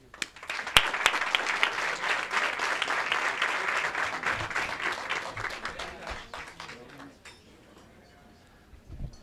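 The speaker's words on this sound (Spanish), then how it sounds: "en este lugar. Un aplauso." An audience at a Marbella municipal presentation of new Palo Alto development phases breaks into full applause, many hands clapping densely and close, holding strong for several seconds before tapering off to scattered claps near the end.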